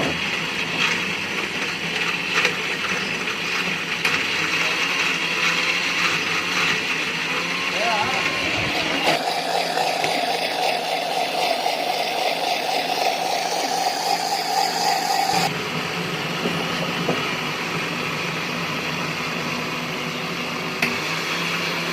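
Electric blender grinding masala with a little water in its jug, a loud continuous motor whir that shifts pitch partway through and then drops back, with no voices.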